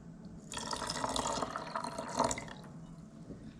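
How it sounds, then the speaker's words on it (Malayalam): Boiled and cooled water is poured into a homemade kiwi wine mix, a soft splashing pour of about two seconds with a brief gurgle near the end, heard close and fairly quiet. "ഇനി നമുക്കിതിനകത്തേക്ക് തിളപ്പിച്ചാറിച്ച വെള്ളം ആഡ് ചെയ്ത് കൊടുക്കാം."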